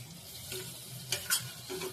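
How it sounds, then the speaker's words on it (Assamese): Liver curry with paste stirred in a pan with a spatula, quiet sizzling broken by a few short scraping strokes, close and faint. "মই হেতাখনেৰে লৰাই দিলোঁ অকণমান।"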